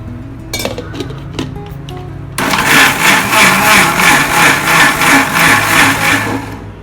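A few light clinks, then an electric grinder abruptly starts, loudly and steadily blending dried chillies and soaked dal into adai batter at close range until it winds down.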